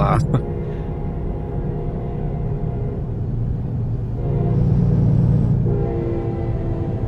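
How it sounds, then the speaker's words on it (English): A train rumbles along steadily in American Truck Simulator on a Nebraska drive, a low continuous roll of railcars with a brief sharp burst at the start and a swelling passage midway as it draws nearer. "Why do I hear a train?"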